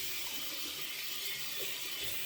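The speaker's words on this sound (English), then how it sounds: "I wet the brush, and I knock out all the water" A shaving brush is wetted under running tap water at a sink, giving a steady, soft hiss of flowing water with faint splashes, quiet and unbroken throughout.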